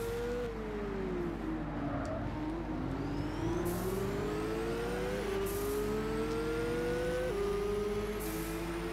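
Race car engines in Gran Turismo 6 at Spa rev hard off the start line, one close engine climbing through gears with sharp shifts while other cars whine around it, loud and continuous.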